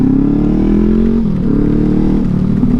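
A brand new KTM 890 Adventure R motorcycle being ridden, a loud close engine hum with shifting pitch as it changes revs and gears, steady throughout with buffeting noise.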